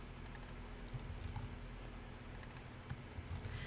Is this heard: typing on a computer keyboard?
yes